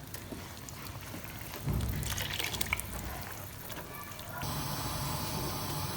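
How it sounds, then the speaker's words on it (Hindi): Water from boiled chickpeas poured into a pan of curry masala for Lahori chana, a close liquid splash and trickle that swells midway and then settles into a steady sizzling hiss. "ये ऐड कर देंगे और इसके साथ ऐड करते हैं बॉइल्ड चनों का पानी।"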